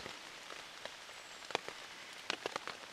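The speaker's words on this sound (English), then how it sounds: "Hear the rain." Rain falls outdoors at a British military urban warfare training village, a faint, steady patter with a few sharper drops striking nearby surfaces and no voices.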